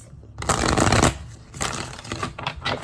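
A deck of tarot cards is riffled and shuffled close up in a few quick bursts of papery flutter, with brief pauses between, no voice over it.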